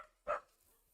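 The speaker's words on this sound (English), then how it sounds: "there are damn dogs sitting, so apologies for the background noise." A single dog bark sounds faintly in the background of a quiet room, short and muffled against a low hiss, with no talking.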